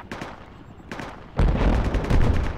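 Gunfire in the Falklands combat game Project Reality, scattered shots and bursts cracking at mid distance that swell into heavy, rumbling fire with sharp reports and no talk.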